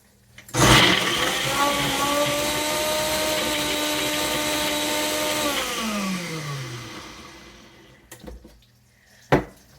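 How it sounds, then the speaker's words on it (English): Countertop blender with suction-cup base whirring steadily through kale wrap ingredients, loud and close for about five seconds, then the motor winds down with a falling pitch, followed by a couple of sharp clunks. "So we'll go ahead and start blending."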